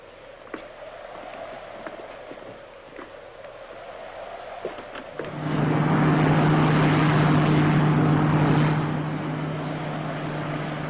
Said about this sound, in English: Mr. Secretary, a Space Ranger ship is landing.